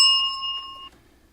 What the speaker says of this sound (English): I still have the bell. It's the same bell.